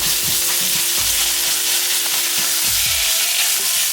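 Impossible Burger meat fries in a hot pan with a loud, continuous sizzle, broken by a few scraping stirs and pushes.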